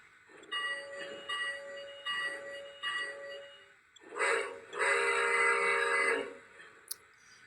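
Sound effects from a Polar Express model train set: a run of evenly spaced, bright chiming tones, then a louder sustained whistle-like blast, a brief pause and a sharp click at the end.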